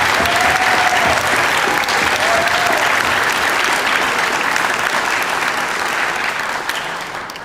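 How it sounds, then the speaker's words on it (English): A large audience applauds at a college Founder's Day ceremony, sustained dense clapping that holds steady for several seconds before gradually tapering off. "can you please join me in showing our appreciation to them with a very generous round of"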